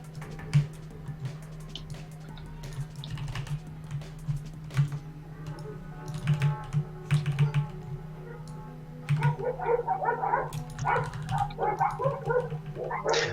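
Dogs barking in a house, several sharp yaps and woofs scattered over a steady low hum, with a busier flurry of barks toward the end; faint keyboard-like clicks mixed in.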